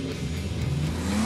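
A car engine revs loudly and steadily at a drag race, likely the BMW E21 or Ford Fusion, with a continuous low rumble whose pitch climbs as the throttle opens.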